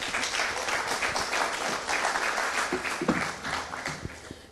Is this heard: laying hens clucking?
no